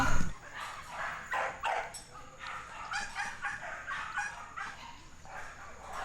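A small dog gives a string of short yips and barks in quick bursts, close by, with a little rustling between them.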